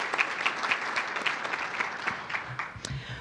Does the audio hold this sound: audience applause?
yes